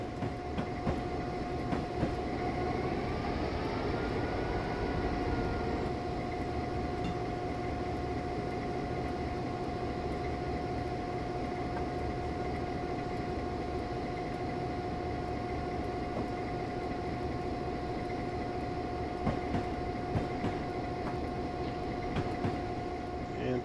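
A freight train hauling oil or diesel tank cars runs in Train Simulator 2013, giving a continuous rumble with rhythmic rail clatter and a steady engine tone at a constant level.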